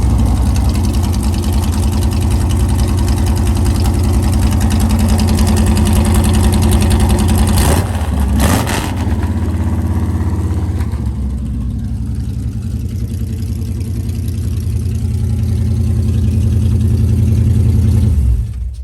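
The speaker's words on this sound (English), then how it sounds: "we're gonna get a cold start right here" Classic car at an outdoor car show cold-starting and settling into a loud, steady idle with a low rumbling tone, briefly dipping partway through before holding a constant idle to the end.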